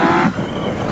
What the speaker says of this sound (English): You can hear how blippable that throttle is.